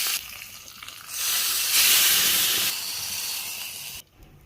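Curry leaves hit hot oil already holding mustard seeds, cumin and asafoetida for tempering a spinach and moong dal dish. A loud hiss surges, holds, then eases before cutting off abruptly.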